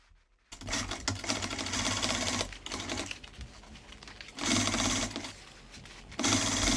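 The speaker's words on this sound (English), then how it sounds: "After top stitching, you're gonna fold it over and sew it at the edge on the front." A sewing machine stitches along the zipper fly of denim pants in several runs, rapid mechanical whirring bursts separated by short pauses, close and clear, no talking.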